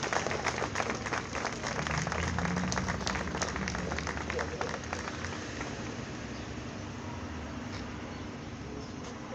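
An audience at a Freedom Day event at the Underground Railroad applauds for an honoree: dense, rain-like clapping from many hands, strongest early, then slowly thinning and fading under a faint background voice.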